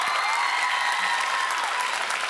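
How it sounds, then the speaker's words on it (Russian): Steady applause from an audience after a fast jive dance performance, dense and continuous throughout with no pauses or individual claps standing out. "Поэтому вам просто аплодисменты."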